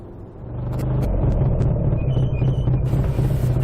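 A BSA A65 motorcycle engine drones steadily while riding along narrow single-lane country roads, a close, continuous rumble with a constant low hum and wind noise throughout.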